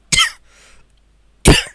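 Two sharp, close coughs from a commentator, about a second and a half apart, with a faint breathy sound between them and no talk.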